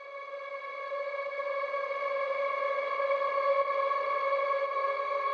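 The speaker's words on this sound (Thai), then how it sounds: "แล้วก็แอมเบียนนี้ก็จะถูกไล่มาก่อนหน้านี้ด้วย แอมเบียนกีตาร์เนี่ย" A sustained, shimmering ambient electric guitar drone hangs steady and smooth, washed in effects, holding one chord without breaks and never quite getting loud.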